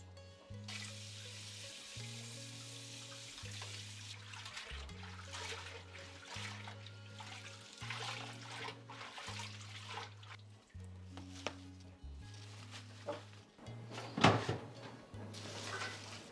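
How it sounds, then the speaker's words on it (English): Artificial plants being washed in a utility sink with mild woolens detergent, water trickling and splashing steadily for the whole stretch, with handling sounds and low background hum. "I wash them in the utility sink so they can soak properly"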